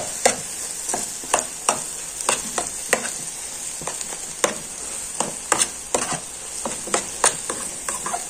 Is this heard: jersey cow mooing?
no